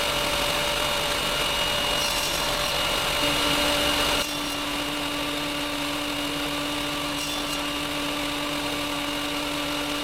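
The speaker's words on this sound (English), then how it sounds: "continue cutting the mahogany ribs to the same size as the pieces of purple heart" A power saw cuts small mahogany rib pieces with a steady, loud, close whine and broad buzzing noise that shifts slightly partway through, continuing without a break and with no voices.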